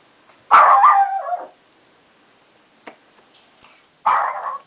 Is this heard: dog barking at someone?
yes